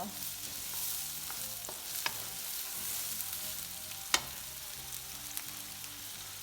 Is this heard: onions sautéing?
yes